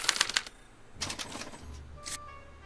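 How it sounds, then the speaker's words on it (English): A special typewriter in the Back to the Future game hammers out a punch card in rapid mechanical clatters, three short bursts of typing separated by brief pauses, close and fairly loud. "they're relayed to this special typewriter, which prints out a punch card that represents the subject's mind map"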